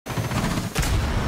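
Rapid gunfire in Rainbow Six Siege during a Bandit clutch round, a dense continuous burst of loud close shots with a brief extra-heavy flurry partway through, no speech over it.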